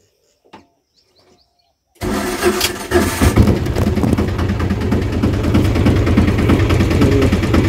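After two seconds of near silence, a car engine cranks and catches, then settles into a loud, steady idle close by during a battery condition check.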